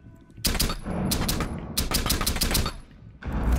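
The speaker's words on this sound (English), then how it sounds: "Mazzy, shoot me with the SMG from there." SMG gunfire in a video game rings out as loud, rapid automatic bursts in several close volleys separated by brief pauses, with no talking.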